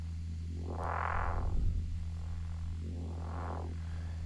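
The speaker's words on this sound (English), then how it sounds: "Starting off, we have a bandpass filter, which sounds like this." A droning neuro synth bass through a bandpass filter sweeping up and down twice, opening into a brighter tone and closing again, steady and alone.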